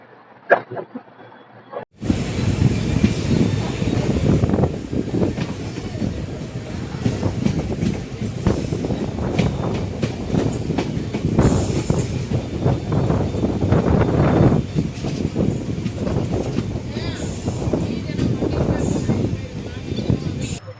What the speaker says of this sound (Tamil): ஆப்போசிட் ட்ராக்ல ஒரு ட்ரெயின் போயிட்டு இருக்கு பாருங்க.